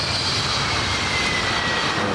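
Steady roar of an airplane's engines and rushing air in The Forest video game, a dense continuous wash of noise, loud and unbroken.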